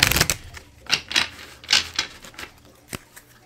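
A run of quick papery shuffles and riffles of tarot cards, several soft bursts in uneven rhythm, close up with no talking.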